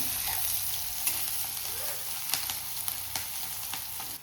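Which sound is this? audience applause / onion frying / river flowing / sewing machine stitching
onion frying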